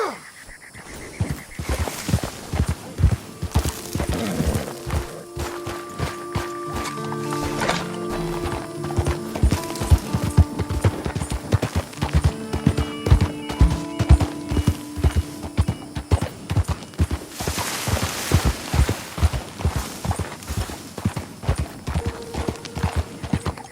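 Horse hooves clip-clopping in steady rhythm during a ride in the Red Dead Redemption video game, close and continuous, with a brief whinny and game music layered beneath the hoofbeats.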